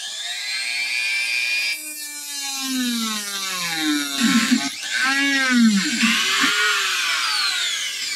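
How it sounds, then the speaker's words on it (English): A Dremel rotary tool with a cutting disc, set to speed 3, cuts on inline skates. It gives a continuous high whine that rises and falls in pitch as it bites into the material, close and loud. "I got the cutting disc on. I have it set to 3. Let's see if it cuts."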